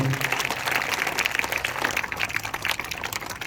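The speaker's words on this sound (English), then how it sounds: "big round of applause for all these kids" A school assembly audience applauds a class of young students after their presentation, with steady, dense clapping throughout and a faint voice underneath.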